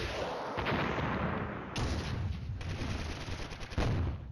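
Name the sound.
mortar fire in Flashpoint Campaigns: Red Storm video game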